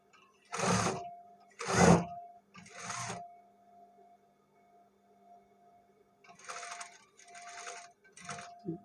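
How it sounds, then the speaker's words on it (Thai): Domestic sewing machine stitching in short bursts, backstitching to lock the end of a neckline seam on a garment; several quick runs of needle clatter, close and moderately loud, with pauses between and no talk. "เย็บ ย้ำ จุดสิ้นสุดนะคะ จุดสิ้นสุดจุดเริ่มต้นให้เราเย็บย้ำ เพื่อความแน่น"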